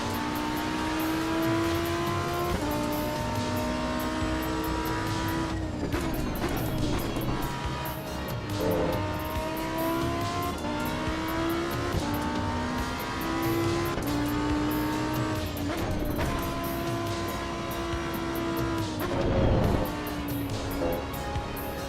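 Race cars in the Assetto Corsa EVO sim racing game, including a Porsche and a BMW, drone continuously with shifting engine pitch as they accelerate and change gear, with tire noise and a louder surge near the end.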